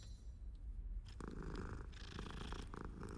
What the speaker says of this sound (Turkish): kedi sevelim